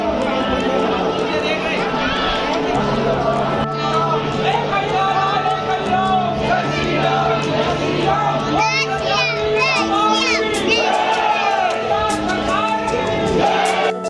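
A large crowd of pilgrims at Bageshwar Dham temple fills the air with dense, continuous chatter, with children's shouts and calls rising over the steady wash of many voices nearby.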